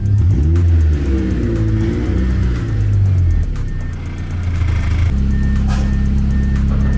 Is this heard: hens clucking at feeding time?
no